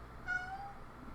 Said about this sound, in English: That's my cat Bankers.